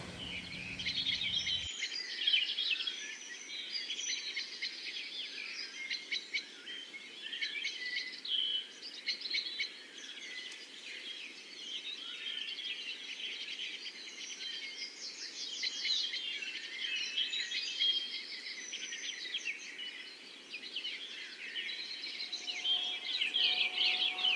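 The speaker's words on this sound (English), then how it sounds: "There's a lot of birds in here, which is amazing." Many birds chirp and sing at once in a dense, continuous chorus in an outdoor spot, moderately distant and fairly quiet, with a soft steady background hiss and no talking.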